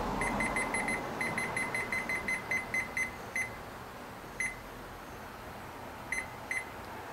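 A smoker thermometer's alarm beeps in short, sharp electronic bursts while it is being set, first in a rapid run of chirps, then in spaced single and double beeps over a steady background hum.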